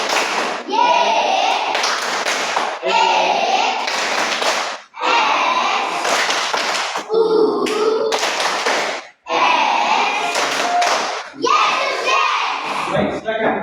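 A class of children claps along in a rhythmic clapping routine during a religion lesson, with repeated bursts of patterned claps and chanted voices and short pauses between phrases.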